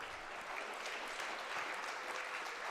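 A basketball crowd at a La Salette Lions varsity versus alumni game applauds in a faint, distant, steady wash of many hands clapping, with no clear voices on top.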